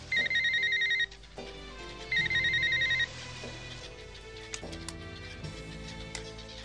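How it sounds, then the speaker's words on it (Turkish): A telephone rings in two loud electronic trills, each about a second long and separated by a pause, sounding over a quiet indoor background with soft music. "Neden açmadınız telefonu?"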